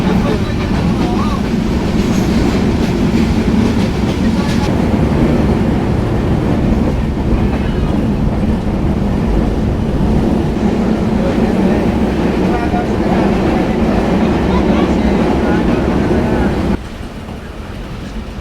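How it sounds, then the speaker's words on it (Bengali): A passenger train rolls between Joypurhat and Natore past small stations without stopping, giving a continuous loud rumble and rattle of carriages on the rails that drops slightly in level near the end. "ছোট ছোট অনেক স্টেশন পার হয়ে যাচ্ছে আমরা, যেগুলোতে ট্রেন যাত্রা বিরতি দিচ্ছে না।"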